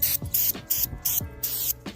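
Brake cleaner sprayed from an aerosol can onto a brake caliper on an Infiniti Q50, several short hissing bursts in an uneven rhythm, close and loud with brief pauses between sprays.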